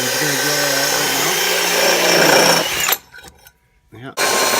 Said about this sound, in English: So we're going to drill that out right now.